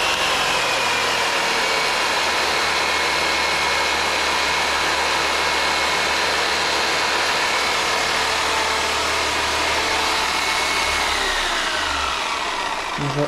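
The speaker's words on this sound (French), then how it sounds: "Sauf que la scie sabre elle tourne moins vite." A reciprocating saw powered by a Fossibot F800 battery station runs continuously with a loud, steady buzzing drone and a faint whine that shifts slightly in pitch near the end.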